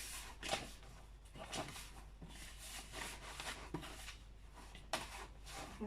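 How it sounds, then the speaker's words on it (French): Pizza dough being mixed by hand in a bowl, giving soft, irregular rubbing and squishing strokes that come in repeated bursts, close up and fairly quiet, with no talking. "ma pâte, je vais bien mélanger avec les mains"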